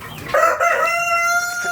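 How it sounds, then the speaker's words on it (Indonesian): A rooster in a small backyard coop housing five chickens lets out a loud, close crow that rises sharply and then holds. "Ini ayam 5 ekor."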